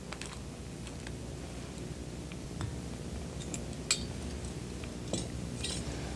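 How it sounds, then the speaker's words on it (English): A serving fork lifts a bread roll and sets it onto a plate, giving a few faint metallic clicks and light clinks against a steady background hum, close and quiet, with no talk. "Invert the fork, pick up the roll, and transfer it to the plate."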